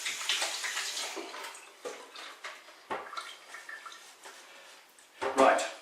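Hands are rinsed under a running kitchen tap, a steady soft splash of water that shifts and dips as the hands move, ending in a louder gush, while a voice speaks.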